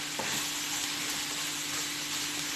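Food sizzles steadily in a frying pan while being stirred, a constant close hiss with a faint scrape near the start, no voices over it.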